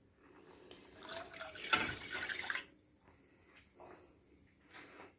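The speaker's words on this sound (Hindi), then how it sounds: "1 कप में डाल चुकी हूँ और ये कप में डालने लगी हूँ" Homemade aloe vera gel water is poured from a container into a cup, making a steady splashing trickle for a second or two before it settles into a quiet background.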